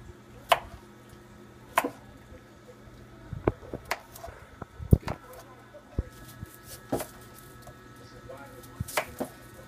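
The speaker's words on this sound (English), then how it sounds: "Cut up our onion." Knife chopping onion on a cutting board for a Japanese-style stir fry: about a dozen sharp, irregular close chops, with quiet background hum between strikes.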